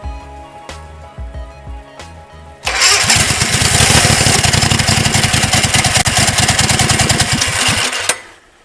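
A 19 hp go-kart engine, swapped in, cranks with a few short pulls before catching and roaring into a loud, rapid, lumpy run for about five seconds. It cuts out abruptly at the end; no voices.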